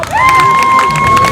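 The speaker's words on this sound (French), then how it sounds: "Applaudissez, applaudissez." Cheering, shouting crowd at a lively event in Bandjoun, with a sustained whistle-like tone over dense, close crowd noise throughout.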